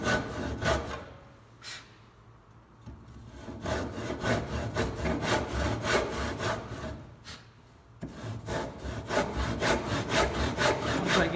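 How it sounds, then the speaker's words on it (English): A hand saw cuts wood for a cross lap joint with rhythmic rasping back-and-forth strokes, close and steady, with one brief pause before sawing resumes. "get my saw kerf all the way across, then what I do is I cut down on the back side first"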